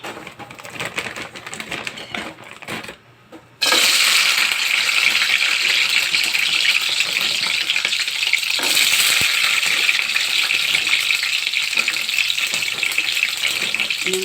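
Fries dropped into a small amount of cooking oil, with quieter pan sounds giving way to a sudden loud, dense sizzle that stays steady and close for the rest of the time.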